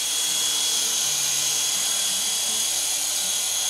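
A Syma S111G radio-controlled toy helicopter runs its rotor at full throttle, a constant high, whining electric-motor buzz with a loud steady hum that never lets up.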